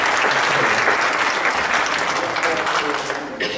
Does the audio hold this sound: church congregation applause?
yes